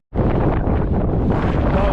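Strong wind roars and buffets the microphone on an exposed mountain hike, a loud, sudden, sustained rush of broadband noise that starts abruptly and holds steady.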